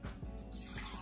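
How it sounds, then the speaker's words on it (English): Water pours steadily into a container holding a little bleach during household cleaning, a continuous close splashing rush that runs the whole moment. "And I just put a little bit of water in it for it to"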